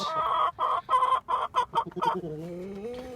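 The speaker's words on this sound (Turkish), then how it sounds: "Tavuklarımızı seveceğiz." Hens in a coop cluck in a quick burst of about eight close, loud, rhythmic calls, then one stretches into a drawn-out, wavering squawk.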